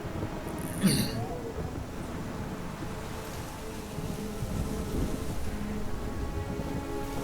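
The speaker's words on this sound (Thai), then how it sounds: "ฝนตก" Rain and thunder in the video game Ori and the Will of the Wisps, a steady hiss of rainfall with a sharp thunder crack near the start, continuing evenly at moderate volume.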